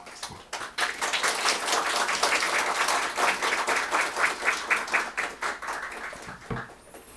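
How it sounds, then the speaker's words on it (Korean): Warm, sustained applause from a sizable church congregation welcoming a speaker, steady and fairly loud for several seconds before tapering off. "우리 조준모 교수님 나오실 때 뜨거운 박수로 환영해 주시기 바랍니다"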